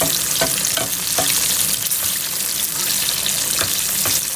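Spanish mackerel fillets frying in a pan on high heat, a loud, continuous close-up sizzle with scattered pops and ticks, no voices.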